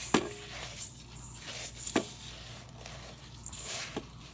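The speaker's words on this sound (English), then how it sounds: "Now you got to mix it up with your hand" Coconut shrimp coating is mixed by hand, giving soft, irregular squishing and rustling up close and faint, with a few sharper taps at scattered moments.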